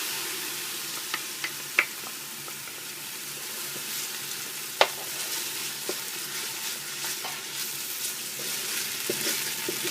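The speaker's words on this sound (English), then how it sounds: "Okay, now we're going to put in our ginger. Just stir this around for a couple minutes." Ginger sautéing in a pot for hot and sour seafood soup, a steady close frying hiss broken by scattered sharp clicks and taps of a utensil against the pot, no talking.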